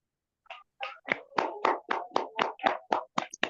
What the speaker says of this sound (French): Le secteur 20, des applaudissements.